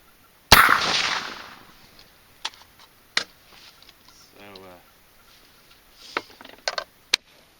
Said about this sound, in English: so this is the last shot.